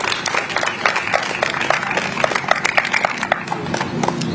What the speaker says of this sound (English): So let's give a round of applause for Jesus Garcia Mota.